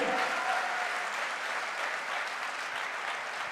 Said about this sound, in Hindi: एक बार जोरदार तालियां हो जाए अमित सर के लिए।